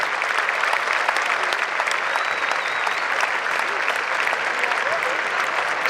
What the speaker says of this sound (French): Accordons-leur une fière main d'applaudissements.